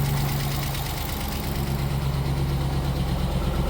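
A 2022 Dodge Durango R/T runs at a steady idle with a freshly swapped engine that burns a lot of oil. It makes a continuous, even low hum and rumble with no pauses, and no one speaks.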